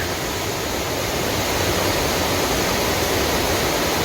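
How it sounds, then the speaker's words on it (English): Waterfall beside the Wilson River Trail near Lester Creek, a steady full-band rush of falling water that fills the whole clip, loud and close with no break or voices. "Really cool waterfall along the road,"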